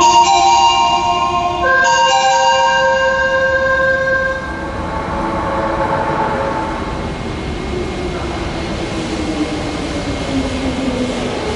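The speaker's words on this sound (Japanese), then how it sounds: "2番線に大正行きが到着します。" Osaka Metro Nagahori Tsurumi-ryokuchi Line 70 series train 7105F, bound for Taisho, pulls into platform 2 at Nishi-Nagahori station. Bright sustained tones ring out at the start, then give way to the rising rumble and whine of the train as it closes in and slows.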